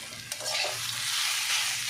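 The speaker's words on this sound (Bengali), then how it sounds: "চিংড়ি মাছও ঢেলে দিয়ে কষিয়ে নিচ্ছি।" Prawns sauté in a pan with tomato, the food sizzling steadily while a spoon scrapes and stirs in a few quick strokes, close up with no talking.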